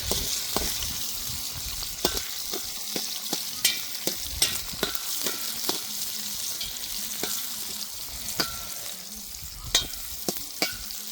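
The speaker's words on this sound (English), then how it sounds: "Got onions sizzling." Onions with seasoning salt sizzle steadily in a hot pan at a camp, a dense crackling hiss broken by sharp clicks and scrapes of stirring, close and fairly loud with no talking.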